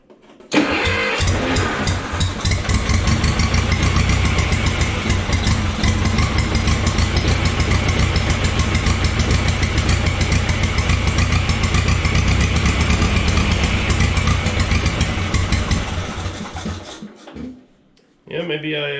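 A 1950s Schramm air compressor engine runs loudly and steadily for about fifteen seconds with a fast chugging pulse, then cuts out and sputters briefly.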